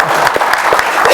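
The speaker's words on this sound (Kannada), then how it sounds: "ಬರ್ಲಿ ಚಪ್ಪಾಳೆ" Fans in a studio audience at a Kannada comedy event for the film 45 burst into applause, a dense, loud, steady clapping with no voices on top.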